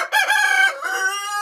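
A rooster crows loudly and close by in one long, harmonic call that carries into clucking, with no talk over it. The bird is aggressive.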